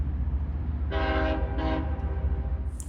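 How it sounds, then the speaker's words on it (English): Two loud blasts of a freight train horn at a grade crossing at Moncrief Yard, Jacksonville, Florida, the first longer, over a steady low rumble of the passing train. "the engineer had to blow the longest grade crossing I've ever heard to this day"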